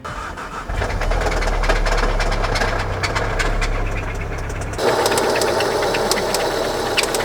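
A failing Volkswagen car engine runs close by with a rough, rhythmic knocking, idling unevenly and loudly with no voices.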